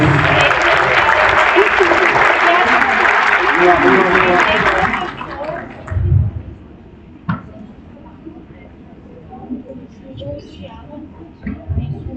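A big crowd at a legal conference claps loudly and steadily for about five seconds, then the applause fades out, leaving a few scattered claps and room noise.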